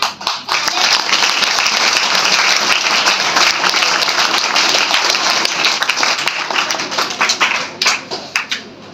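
An audience at a Savitribai Phule Jayanti programme applauds loudly and steadily for close to nine seconds, then the clapping thins into scattered claps before fading.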